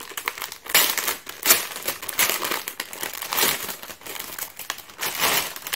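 Plastic packaging from a NihonBox subscription box crinkles and crumples as it is unwrapped by hand, close and loud, in repeated rustling bursts with brief pauses between.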